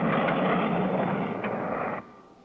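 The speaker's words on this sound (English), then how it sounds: "There goes the black jet again!" A black jet aircraft in a cartoon roars past as a loud, broad engine rush that holds steady, then drops away sharply and fades out.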